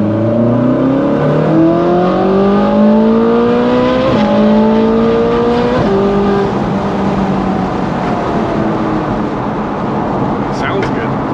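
A Ferrari 458 V8 revs hard through rising gear pulls while driving, loud and close from inside the car, with shifts breaking the climbing tone and voices talking over it.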